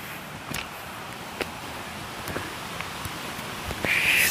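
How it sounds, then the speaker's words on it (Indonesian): A soft, continuous rush of wind moves through pine and casuarina leaves on a mountain trail, with faint rustles and a few small clicks, and a brief brighter swell at the end. "Suara angin yang menerpa dedaunan cemara, dedaunan pinus"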